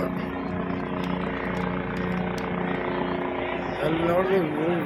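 A helicopter flies over the crowded Kumbh Mela gathering at the Sangam. Its steady droning hum runs under nearby chatter and crowd noise.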